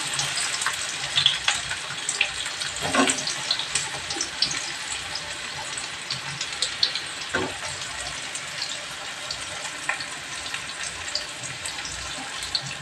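Onions fry lightly in a pan for mutton biryani, a soft continuous sizzle and crackle with a few brief louder spurts, heard alone.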